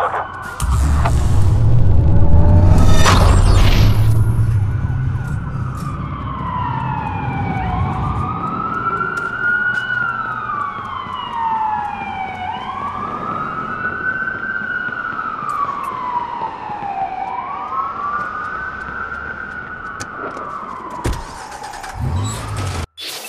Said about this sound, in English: That's a lot of sirens for a blackout.